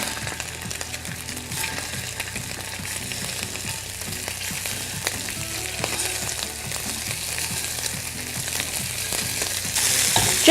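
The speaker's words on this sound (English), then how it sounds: "You want to hear actual cooking, actual sizzling." Pork meatballs sizzle and fry steadily in hot oil in a pan, a continuous crackling hiss with small pops and occasional soft clinks, growing slightly louder toward the end, with no talking.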